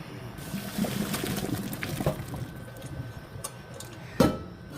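Pasta water pours and drains through a strainer into a kitchen sink, a hissing wash of liquid with clinks and clatters of the metal colander, ending in a sharp knock.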